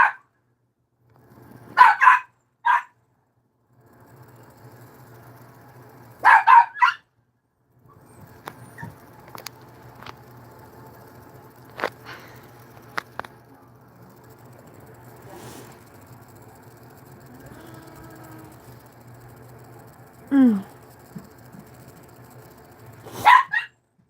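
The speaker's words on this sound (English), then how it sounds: "Trying to get the pup to quiet down." A puppy barks in a few sharp, loud clusters spread across the stretch, with a steady low hum and scattered small knocks between the outbursts.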